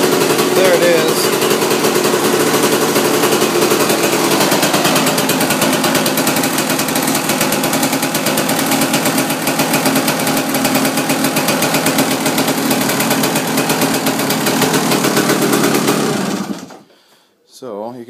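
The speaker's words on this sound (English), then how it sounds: "So you can see that exhaust leak there. Other than that, it runs pretty awesome." A Kawasaki KX250 dirt bike engine with an exhaust leak runs loud and close for about sixteen seconds, a rapid, steady, rattling two-stroke buzz that then cuts off abruptly.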